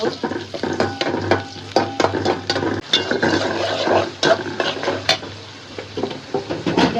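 Oil and fish sizzling in a hot pan while tengra fish curry cooks, with a steady frying hiss, scraping stirs and frequent metallic clinks of a utensil against the pan, close and fairly loud.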